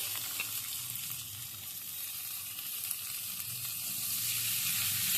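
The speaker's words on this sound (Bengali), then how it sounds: "পেঁয়াজটা লাল করে ভেজে নেব" Chopped onions frying in oil sizzle in a pan, a quiet, continuous crackle that swells slightly toward the end, with no voices over it.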